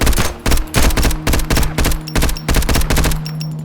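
Rapid automatic gunfire from the first-person shooter Road to Vostok, a loud, close string of evenly spaced shots in quick bursts, ending in a brief lull.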